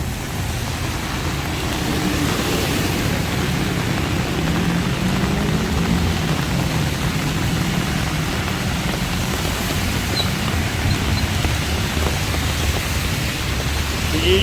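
Heavy monsoon rain drums steadily on an umbrella along a flooding Bangkok street, a dense, unbroken hiss and patter that stays close and loud throughout with no voices.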